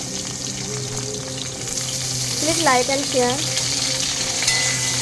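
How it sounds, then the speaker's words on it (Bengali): Potatoes fry in hot oil, a steady sizzle with stirring; a voice speaks briefly partway through. "তেলটা গরম হয়ে গেছে, আমি এখন আলুগুলো ভেজে নেব।"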